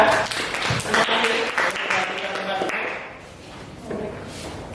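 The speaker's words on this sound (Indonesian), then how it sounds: "kita beri tepuk tangan untuk kelompok 3" A classroom audience claps for presentation group 3: a moderate patter of applause that thins after a few seconds, mixed with knocks and voices talking over it.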